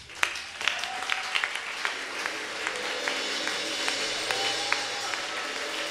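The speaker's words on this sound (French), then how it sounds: "Donnons une acclamation au Seigneur." A church congregation at an evening worship service claps and acclaims, with scattered sharp individual claps standing out over a steady crowd wash and faint tonal background from music or voices.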